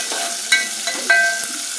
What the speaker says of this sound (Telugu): కరివేపాకు వేసి వేయించుకున్నామండి.